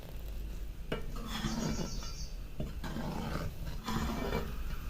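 A ladle stirs a thick green pea curry at a full boil in a metal pot, with steady scraping and bubbling that runs continuously and close up.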